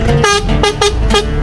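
An armored vehicle's horn honks loudly in three or four short blasts with brief gaps, close up and alone, over a steady engine-like rumble.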